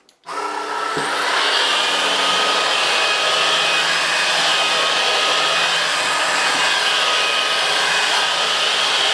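Ultenic U16 cordless stick vacuum running at maximum power on a rug, a loud steady motor whine with a broad airy suction roar that starts abruptly and holds constant, close up, with no talking.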